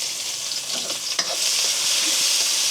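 Chopped onion, coriander, tomato and pineapple stir-fried in a hot pan in a Thai kitchen, a steady close sizzle with a few scraping stirs, no voices.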